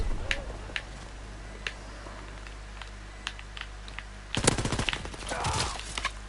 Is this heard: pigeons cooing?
no